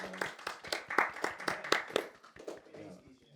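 A few people clapping in a podcast setting, about a dozen sharp claps in an uneven rhythm that slows and fades, with voices talking around them.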